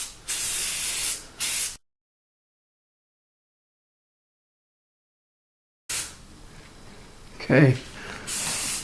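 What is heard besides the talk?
spray painting with Valspar Pink Burst paint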